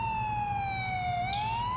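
A police car siren in the video game GTA 4 sounds loud and steady, its sustained wailing tone gliding slowly down and then back up over a low engine hum.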